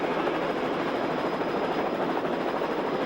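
A helicopter flies over a 1996 AMA 250 outdoor motocross race, giving a steady, moderately loud rotor and engine drone that fills the whole stretch evenly with no talk.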